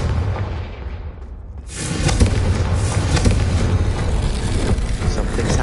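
A Confringo fire spell blast in Hogwarts Legacy lands as a sudden loud boom partway in. A dense, crackling roar of flame and debris follows and holds steady and close to the end.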